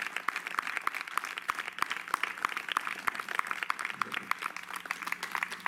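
A church congregation at an evangelistic service in Colonia Talamante, Etchojoa, Sonora, Mexico, applauds the Lord with rhythmic, fairly sparse clapping, distinct sharp claps repeating steadily throughout under a faint room murmur.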